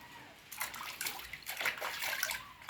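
Water sloshes and splashes while a small child is bathed, a soft, close, uneven wash of splashing that swells after a quiet start.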